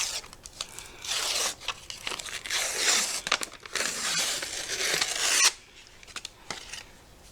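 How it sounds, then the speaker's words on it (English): Packages of canned refrigerator biscuits are opened up for holiday monkey bread, with close crinkling and tearing of paper wrap, rubbing and rasping noises in uneven bursts, then a quieter stretch near the end. "we're going to take our biscuits, we're going to open them up"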